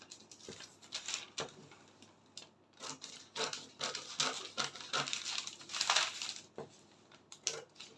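Scissors cutting fabric for a yoke bustier, quiet irregular snips and rustling of cloth with brief pauses, close by and alone.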